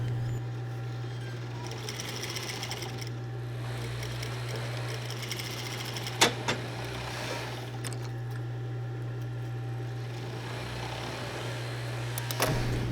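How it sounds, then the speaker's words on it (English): A sewing machine hums with a steady motor drone and fast needle chatter while stitching a half-inch seam on a pillow with a metal zipper, broken by a couple of brief clicks. "I'm using half an inch seam allowance and stitching to the second mark."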